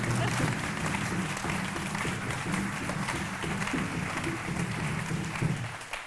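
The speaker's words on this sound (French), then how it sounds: "Donc on applaudit avec moi?" A studio audience claps for a jazz musician, a steady crowd applause mixed with low rhythmic tones and a murmur of talk underneath.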